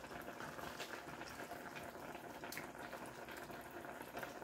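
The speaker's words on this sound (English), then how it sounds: "stir that up and let that simmer. Let that simmer until the pasta gets done." Pasta simmering in tomato sauce for a casserole, a steady bubbling, watery hiss with soft pops, continuous and close throughout, no voices.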